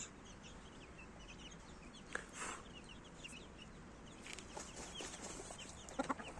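Young poults of a turkey-type fowl cluck and peep faintly in the background, with scattered soft calls and a few brief louder chirps over a low hum.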